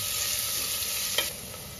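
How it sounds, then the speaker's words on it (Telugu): Onions sizzling in a pan as they fry toward light golden, a steady close hiss with one brief scrape of stirring partway through; no voices. "ఇలా ఆనియన్ బాగా వేపుకుందాము. లైట్ గోల్డిష్ కలర్లో వచ్చేంత వరకు వేసుకుందాము."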